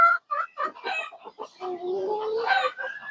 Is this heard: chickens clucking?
yes